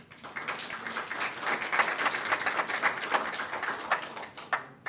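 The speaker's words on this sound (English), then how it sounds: "If we clap the whole night, we will go full 2 hours." Audience clapping at a council meeting on the Maplewood Purple Line project, a steady patter of many hands that swells and holds for about five seconds, moderately loud and fairly close, with scattered sharper claps near the end.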